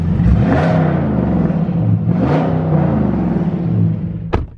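A modified Dodge Charger Scat Pack engine revs hard twice in long rising-and-falling swells, with a brief sharp pop at the end, close by and alone.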